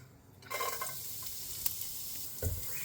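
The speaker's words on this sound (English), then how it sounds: "Just saute the garlic until it's fragrant, and then onion." Garlic and onion saute in a hot pan, starting as a sudden steady sizzle with faint stirring scrapes, close and continuous, with no talk.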